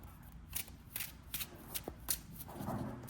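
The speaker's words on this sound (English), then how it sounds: "I'm going to go ahead and shuffle the deck again" A deck of Yu-Gi-Oh cards being shuffled by hand, a run of quick crisp riffles and snaps close up, ending in a softer rustling blur.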